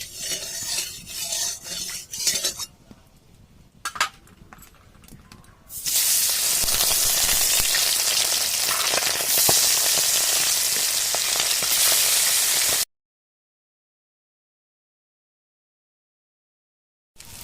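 Tilapia fish frying in hot oil: a few clinks of utensils at first, then a loud, steady sizzling hiss that holds for several seconds before cutting off abruptly into silence.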